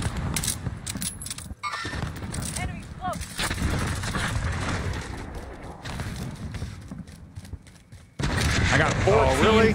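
Dense Call of Duty gunfire and battle noise from a late-night gaming session, continuous loud rattling shots and impacts layered over chatter, with a louder burst near the end.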